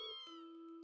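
A kitten meows in the video game Trails of Cold Steel, two short clear tonal calls in quick succession, the second held briefly, heard alone.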